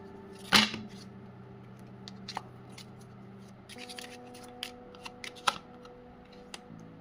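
Tarot cards are shuffled and handled up close, giving soft riffles and scattered light taps and snaps over a quiet background hum.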